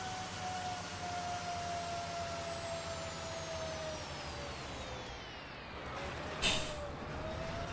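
A big truck in The Long Drive slows down with a steady engine drone and a long descending whine, then a sharp hiss of air brakes bursts out near the end before the rumble carries on.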